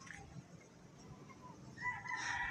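A rooster crows near the end of a quiet farmyard moment in the Philippines, a clear rising call emerging over faint background clucking and low ambient noise.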